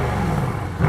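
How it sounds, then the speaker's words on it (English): A Mercedes C63 S coupe with quad exhausts gives a short, loud engine rev close up, a brief burst of throaty roar with nothing else around it. "And speaking of quad exhausts,"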